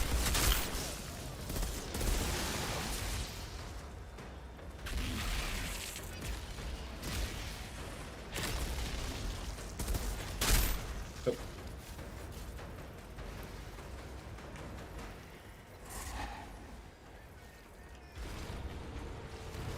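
Gunfire in the shooter game Outriders: a dense, continuous barrage of shots and explosions with mechanical clatter, loud and sustained, easing briefly before picking up again.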